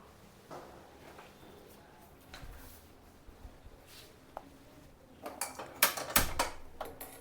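A metal kadai is set down and handled on a home kitchen stove while making ragi laddu, with quiet scrapes early and a cluster of louder clanks and knocks near the end.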